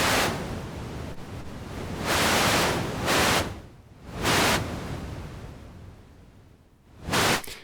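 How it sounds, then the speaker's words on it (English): Broadband white noise hiss from a Korg ARP 2600M synthesizer, shaped by its lag processor, swelling and fading in soft, smoothed bursts, with louder surges separated by quieter, darker stretches; no voices. "Now listen what happens when we use the lag on the white noise."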